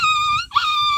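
A high, wavering whimper voiced by a boy imitating a puppy, held steady with a brief break in the middle, close and fairly loud.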